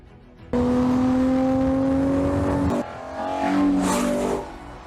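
A Ferrari Purosangue SUV with a naturally aspirated 6.5-litre V12 of over 700 horsepower roars loudly and steadily close by. It breaks off briefly, then revs up again before easing off.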